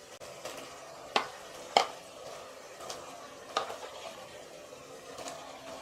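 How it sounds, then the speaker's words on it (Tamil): Chicken stirred into onion, tomato and yogurt in a pressure cooker for biryani, giving soft scraping and wet stirring with a few sharper clinks of a spoon against the pot, fairly quiet and spread across the stretch. "சிக்கன் போட்டு நல்லா கிளறி விட்டுருங்கம்மா."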